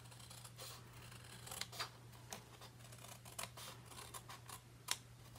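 Paper being snipped with scissors straight across a score line on a snowman Chapstick holder craft piece, heard as faint, sparse clicks and short cuts over a low steady hum, with no talking.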